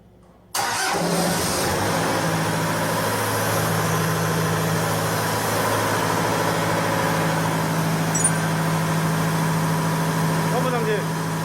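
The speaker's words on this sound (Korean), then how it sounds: "이렇게 하고 엔진 펌프를 한번 돌려보겠습니다." An engine-driven fire pump cranks and catches abruptly, then settles into a loud, steady running drone with a strong low hum that continues nearly to the end, a voice talking briefly over it.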